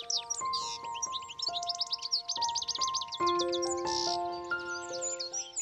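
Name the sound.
birds at a feeder, red-headed birds with yellow wings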